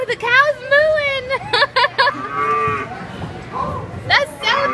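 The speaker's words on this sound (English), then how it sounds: "Ooh, the cow's mooing." At a children's museum, a cow moos in several long, loud, wavering calls while children and adults chatter nearby.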